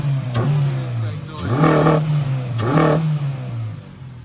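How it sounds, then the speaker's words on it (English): A Honda car engine idling then revving twice, each rev rising sharply and falling back to a steady mid-pitched idle, close and loud, at a Japanese car meet. "You're gonna get a little bit of Honda noise."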